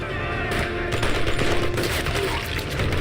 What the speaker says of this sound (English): the grease gun seems to have an infinite amount of ammo